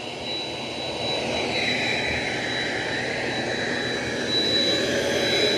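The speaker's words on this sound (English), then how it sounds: "Yeah, it does a good job of vacuuming." An ECOVACS X9 Pro Omni robot vacuum runs with a steady, whooshing motor hum and airflow whine, fairly close and constant, with no talking.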